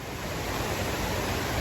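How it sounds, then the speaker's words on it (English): Rain-swollen river along a New Hampshire Appalachian Trail section near Kinsman, a loud, dense, unbroken roar of rushing water close by. "this is a pretty rain-swollen river"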